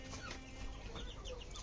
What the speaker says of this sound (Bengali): এই যে মুরগিগুলো এখানেই থাকতেছে